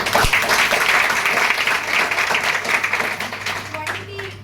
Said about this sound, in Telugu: ఒకసారి మేడంకి గ్రాండ్ అప్లాజ్